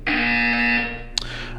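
A loud, sustained electronic buzz sounds in Portal 2, a harsh tone held for most of a second before it fades. A short bright click follows, and a low hum runs underneath.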